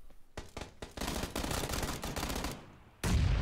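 Burst-fire gunfire in PUBG: rapid bursts of loud shots crackle out in quick clusters for about three seconds, ending with a sharper, heavier blast.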